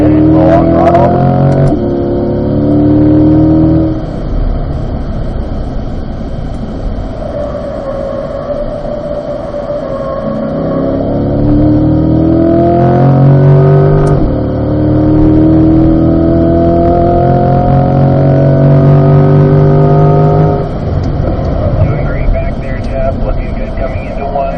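Corvette driven on a race track during an owners' school: a loud, steady engine roar close to the car, its pitch sweeping up and down through gear changes and throttle lifts for the whole stretch.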